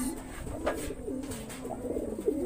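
Pigeons coo at a pigeon racing event in Natividad, Pangasinan, Philippines, a steady low rolling murmur of several birds close by throughout, with no voices.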